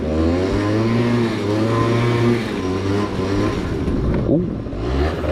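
A snowmobile engine revs hard and steady, its tracks spinning and churning through snow, with the pitch dipping briefly near the end while people exclaim over it.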